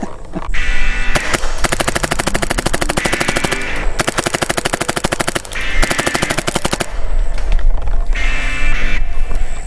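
A Tippmann X7 paintball marker fires long rapid bursts, each a dense, rattling full-auto string of close, loud pops, broken by short pauses between volleys, with no speech.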